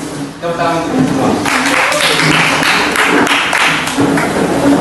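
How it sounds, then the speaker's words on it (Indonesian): Classroom group clapping hands together, a dense patter of claps that rises and runs steadily under a loud voice talking over it. "Tepuk tangan semua."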